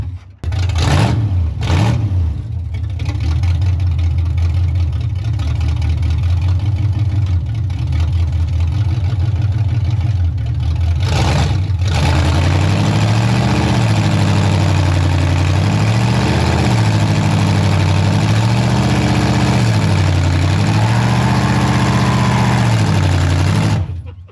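A 1967 Chevy Impala engine that sat for 40 years catches after a few short cranks, then runs loud and close, its low rumble rising and falling with revs.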